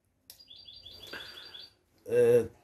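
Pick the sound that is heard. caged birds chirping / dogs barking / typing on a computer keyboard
caged birds chirping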